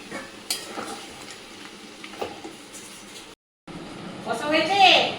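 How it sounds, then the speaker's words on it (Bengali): Chicken pieces with potatoes are sautéed and stirred in a pan at home, with scraping stirs and a soft sizzle under people talking, a brief silent gap, then louder frying swelling near the end. "মাংসটা কষানো হোক ভালো করে"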